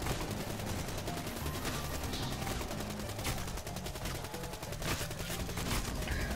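Dense, continuous gunfire in Call of Duty Black Ops III Dead Ops Arcade, with shotgun blasts packed among rapid shots into a loud, unbroken barrage that runs throughout.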